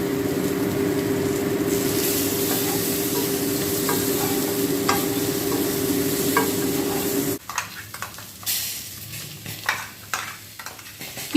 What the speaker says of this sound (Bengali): মশলার সাথে সেদ্ধ করা আলুগুলোকে লো মিডিয়াম ফ্লেমে 2 মিনিট ভেজে নেব